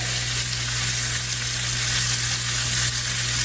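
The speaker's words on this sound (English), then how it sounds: "Then go in with a couple more tablespoons of butter." Butter melting with garlic in a skillet, giving a loud, even sizzle and crackle with a low steady hum beneath, close and continuous, with no voices.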